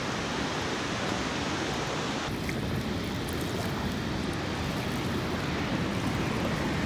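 Nugget Falls near a glacier gives off a steady broadband roar of falling water with wind and lapping waves, heard from a boat at a distance, continuous and even throughout.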